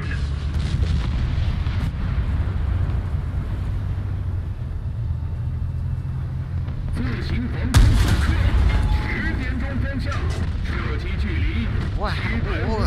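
Anti-aircraft gunfire in the War Thunder video game, a dense rumbling barrage of rapid booms and engine drone, with a louder burst partway through, under loud excited talk.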